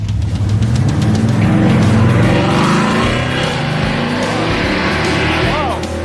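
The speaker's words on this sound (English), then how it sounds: "It's got a 707 horsepower Hellcat engine in it, giant tires in the back, skinnies in the front." A Dodge Dart drag car with a 707-horsepower Hellcat engine, giant rear tires and skinny fronts launches hard, its engine roaring loud and close throughout with tire noise, and voices are heard over it.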